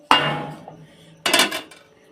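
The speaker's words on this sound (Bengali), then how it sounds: "বাটিটা একটুখানি ঠুকে নেব" A cake batter bowl is tapped twice against a surface to settle the batter, two sharp close knocks with brief ringing tails about a second apart, alone in a quiet kitchen.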